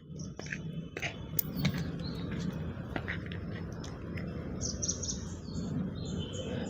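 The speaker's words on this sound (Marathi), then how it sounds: "पक्ष्यांचा वगैरे आवाज चांगला येतो इकडे" Birds chirp outdoors on an evening after rain, with scattered short calls over steady low background rumble and a few faint rustling sounds.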